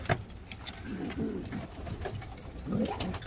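Pigeons coo in a loft where a pair has just hatched a chick, with soft, low, throaty calls repeating in short bursts close by against a quiet background.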